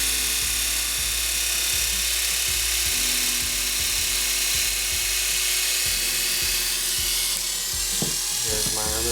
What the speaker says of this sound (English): So then you put this blade on here, perfectly oiled and sharpened, it sounds great.